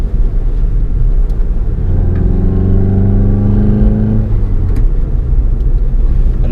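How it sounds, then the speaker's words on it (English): A 2017 Volkswagen Golf GTI goes to full throttle, and its engine note climbs steadily in a loud, close rising rev for a few seconds before cutting back abruptly, with a low rumble underneath. "I'm going to floor the accelerator with my hands off the steering wheel to show you"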